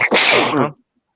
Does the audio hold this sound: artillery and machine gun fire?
no